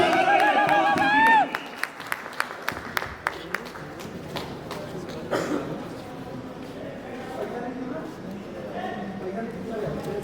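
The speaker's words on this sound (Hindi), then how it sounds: "जोरदार ताली से पवन सिंह जी" An audience claps and cheers for Pawan Singh at a Bhojpuri film event for the movie Mera Bharat Mahan. Applause and crowd noise run steadily through the clip, with a voice on a microphone over it.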